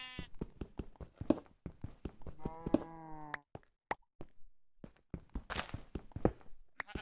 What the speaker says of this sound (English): That's just a sheep eating.